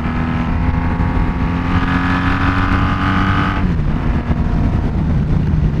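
A Honda Magna muscle cruiser motorcycle accelerates away on a busy road. Its engine drones in a loud, steady hum that shifts pitch partway through as it pulls away, with no talking.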